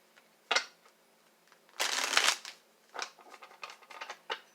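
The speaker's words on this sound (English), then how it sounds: "Let me pull a couple more tarot cards and see the future love for you" Tarot cards are shuffled and pulled from the deck, a close, quiet sequence of papery snaps and one longer riffling burst followed by several short flicks, with no one talking.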